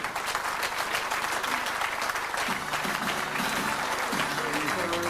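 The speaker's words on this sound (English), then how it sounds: "Round of applause for Bella too." Steady applause from a crowd welcoming Sir Tom Finney at his 80th birthday celebration, dense and sustained throughout, with voices and a faint melodic tone emerging beneath the clapping toward the end.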